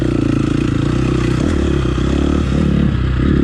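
A KTM 350 SX-F dirt bike with a remapped ECU runs close and loud with a throbbing, pulsing four-stroke note that shifts slightly in pitch, with no voices.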